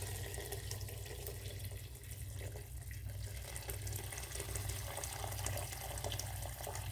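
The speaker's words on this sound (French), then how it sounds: "j'ajoute de l'eau bouillante" Boiling water is poured into a pot of red lentil and vegetable soup, a soft, steady splashing stream that stays faint and continuous, with a low hum underneath.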